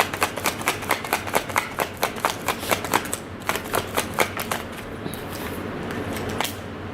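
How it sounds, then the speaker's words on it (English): Tarot cards riffle and snap in a quick run of crisp, close slaps during a shuffle, thinning into a few scattered flicks as a single card is drawn and laid down. "let me just get one more card"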